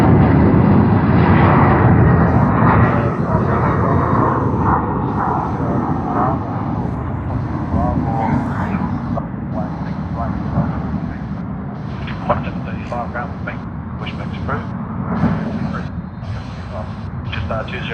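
An airliner departs from Sydney Airport, its engine roar loud and broad from the start and then easing into a sustained, slowly fading rumble.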